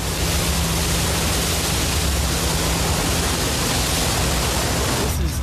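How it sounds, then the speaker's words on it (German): A forest fire that has just caught light gives off a steady, dense roaring hiss with no break, loud and close, and no voices. "Es hat soeben Feuer gefangen."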